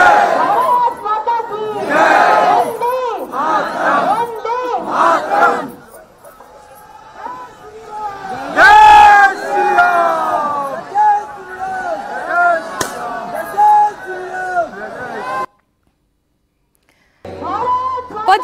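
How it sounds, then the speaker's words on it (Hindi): A large crowd at a Hindu Jodo Yatra procession led by Baba Bageshwar chants patriotic slogans, with loud rhythmic group shouts rising and falling in waves over a dense crowd babble. The clip ends with a brief silence. "भीड़ ने भारत माता की जय और वंदे मातरम के नारे भी लगाए"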